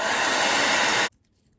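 Hair dryer blowing steadily on decoupage glue over a glass plate, a loud continuous close-up whoosh that cuts off abruptly after about a second, leaving near silence.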